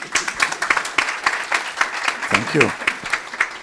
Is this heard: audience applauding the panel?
yes